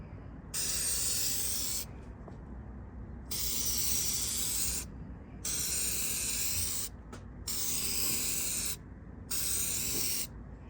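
Clear coat is sprayed onto a foggy, faded car headlamp in five loud, close hissing bursts of about one to two seconds each, separated by short pauses.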